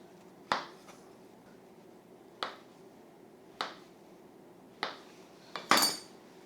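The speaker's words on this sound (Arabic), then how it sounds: "هذا طريقة الموز تقطيعه." A knife chops a banana on a board for Asian luqaimat pastries, giving five sharp, separate taps spaced about a second apart against a quiet background.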